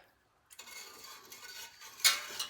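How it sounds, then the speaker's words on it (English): A whisk clinks and scrapes quickly against a bowl of pickling liquid with sugar and cinnamon sticks, starting after a brief silence, soft and close with a brighter clatter near the end. "I want to whisk this up a little bit"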